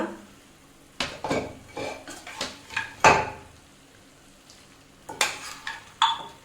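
Cooked mutton being stirred into masala in a pan for a restaurant-style ghee tawa fry: scattered metallic scrapes and clanks of a spoon against the pan over a faint sizzle, in irregular bursts with quiet gaps.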